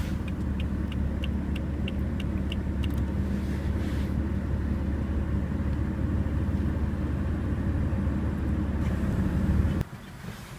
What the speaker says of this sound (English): let's jump into the car, start it up, and see how it sounds